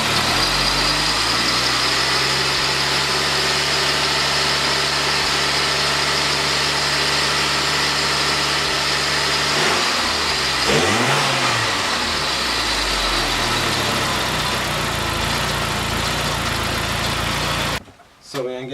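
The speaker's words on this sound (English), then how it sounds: "So now I can hear the engine start to idle." A Saab car engine idling with a slightly squeaky worn serpentine belt, a steady close mechanical hum that shifts in pitch as it revs up and settles, with a brief rev near the middle and a person talking over it.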